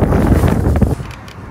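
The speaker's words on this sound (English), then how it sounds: "Brian, it is so windy today" Gusty wind buffets the microphone with loud low rumbling, easing off partway through; no voices.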